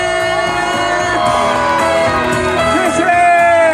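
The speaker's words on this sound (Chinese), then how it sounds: "现场所有的长官、工作人员，热情的掌声加尖叫声" A crowd at an outdoor Taiwanese-language golden songs concert night at Xiangshan Tianhou Temple in Hsinchu shouts and cheers continuously, loud and sustained, with a tonal instrumental accompaniment running underneath.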